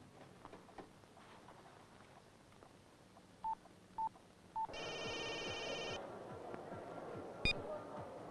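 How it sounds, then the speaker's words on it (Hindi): Three short keypad beeps, then a longer buzzing phone tone and a final sharp beep, heard over a quiet, faintly murmuring background. "तुम अपने मोबाइल से उन्हें फोन करो।"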